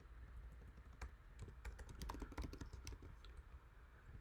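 Steady, fairly quiet typing on a computer keyboard while coding a Swift Firebase chat app, a continuous patter of close key clicks with no talking.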